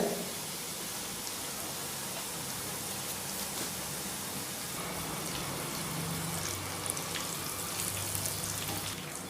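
Diamond cuts snack dough frying in hot oil over a medium flame, a steady dense crackling sizzle that holds evenly throughout, close and fairly loud with no voices.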